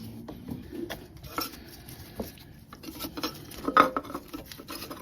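The plastic lid of a Jeep Patriot/Compass diesel oil filter housing is slipped into place, making a scattering of light plastic knocks, scrapes and taps that peak with a sharper clack near the end.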